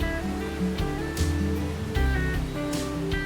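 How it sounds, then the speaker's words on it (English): Steady broadband rush of the Krimml waterfall in Austria's Salzburg region, a powerful continuous roar of falling water with some overlapping tonal music-like bands, constant in loudness throughout. "some 500 cubic meters of water flow through the waterfall every hour"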